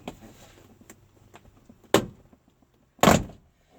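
A trim tool pries the door panel off a 2004 MINI Cooper S (R53). Two sharp, loud pops sound as plastic clips let go, with faint handling noise around them.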